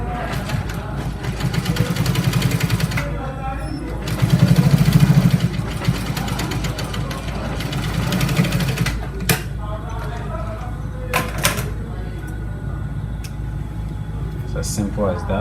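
A sewing machine hums in a few bursts while stitching trouser fabric, with a voice speaking over and between the runs.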